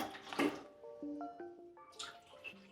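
Water poured into a pan before mixing Durabond for plaster wall repair, a faint, close trickling and splashing with bubbly dripping tones, soft and irregular over a few seconds.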